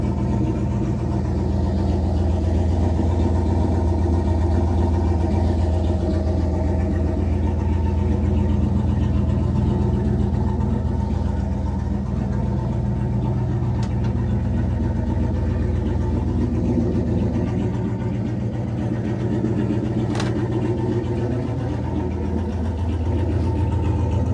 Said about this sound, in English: Just fired it off, did a really nice cold start on it.